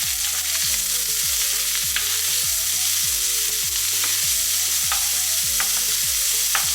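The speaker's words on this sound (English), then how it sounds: "We're going to give this a stir." Onions sizzle steadily in a hot pan for lasagna while a utensil scrapes and stirs in repeated strokes, close and loud with no voices.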